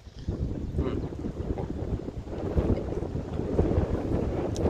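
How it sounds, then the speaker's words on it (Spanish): Strong outdoor wind buffeting the microphone, a steady low rumbling roar with gusty swells that grows slightly louder, heard alone. "La verdad ahorita el viento está fuerte, medio fuerte."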